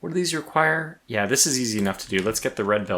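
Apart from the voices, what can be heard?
No everyday noise stands out behind the speech.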